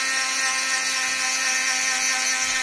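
Rotary tool polishing a handmade silver art clay bezel, a close, steady high-pitched whine with a constant buzzing hum, running unbroken through the clip.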